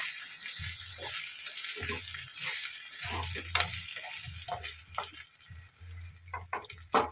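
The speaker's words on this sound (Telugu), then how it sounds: "ఇలా ఆయిల్ బాగా పట్టేలాగా కలుపుతున్నామండి." Rice being stirred in hot oil in a pot while making chicken fry piece biryani, with soft sizzling, scraping and rattling of grains under a steady kitchen hiss.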